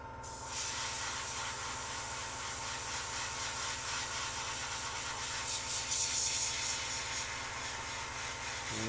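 Steady hiss of a Meeden 0.5mm airbrush spraying, a continuous close airy rush that holds for several seconds with slight swells, no talking over it.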